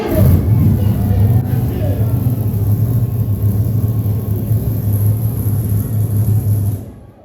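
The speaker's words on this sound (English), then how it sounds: "You heard the trucks fire up right there and then shut down." Low, heavy monster truck engines rumble steadily together for several seconds at a small-town fairgrounds, then cut out abruptly near the end, leaving quiet.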